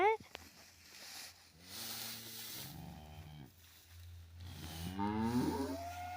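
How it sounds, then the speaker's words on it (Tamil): A black cow on a farm lets out long, drawn moos at milking time, loud and near, with a person talking over parts of the calls. "நம்ம கருமாடு பார்த்தீங்கன்னா கருப்பி கூட சொல்லி கத்துது"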